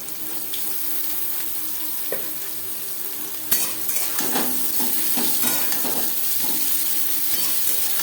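Pumpkin stalks added to carrot and jackfruit seeds frying in a pan, heard as a continuous sizzle with a clatter as they go in, followed by repeated close scraping and stirring strokes, no talk.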